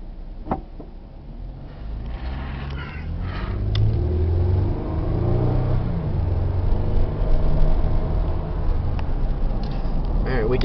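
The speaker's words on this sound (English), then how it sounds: "We just accelerated, brought it up to 35 miles per hour, and let the car settle down again." Toyota Sienna hybrid minivan accelerating up to 35 mph, a steady low engine and road rumble that swells and holds as speed builds, with talk over it.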